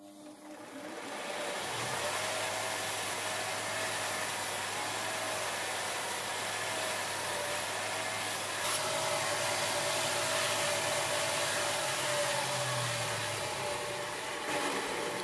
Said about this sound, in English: I have a grinder here, so I'm just going to use the grinder for handiness